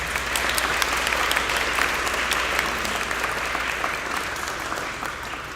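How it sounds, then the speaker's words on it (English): Graduation ceremony audience giving a sustained round of applause for graduates, a dense steady wash of many hands clapping that fades slightly toward the end, with no talking over it. "Please join me in one more round of applause for all of our wonderful graduates,"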